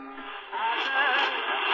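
Zenith RG47J radio tuned to a weak AM station, 740 Toronto, heard from far away: faint music and voice drift under steady static and hiss, with a slight swell in level partway through.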